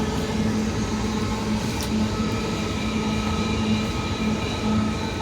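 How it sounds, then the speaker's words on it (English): Freight train rolling along rails, heard from on board: a steady, continuous rumble and rattle of wagons with a faint tonal hum, unbroken and fairly loud throughout, with no voices. "648th freight train."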